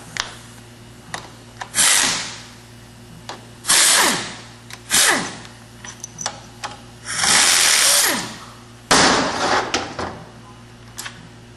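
A power tool spins out valve body bolts on a late-1996-and-up Ford AODE automatic transmission. It makes loud, close whirring bursts of one to two seconds, separated by small clicks and handling noises, with a steady hum underneath.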